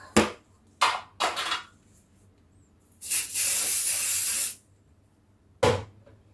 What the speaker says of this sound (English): Let's put some spray and cook.